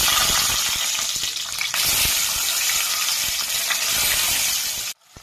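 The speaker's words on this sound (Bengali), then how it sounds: "ডিমগুলো ভাজার জন্য দেওয়া হচ্ছে।" Eggs frying in oil in a pan, a loud, dense, continuous crackling sizzle close by, steady throughout before cutting off near the end.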